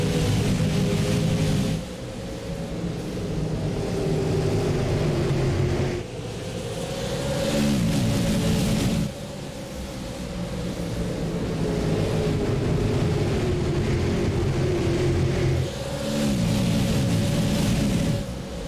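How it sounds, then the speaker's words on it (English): A field of 30 stock cars at Five Flags Speedway in the iRacing sim roars through repeated throttle surges, engines rising and falling in loud waves with no talk. "30 cars ready to go racing in the final official race this weekend."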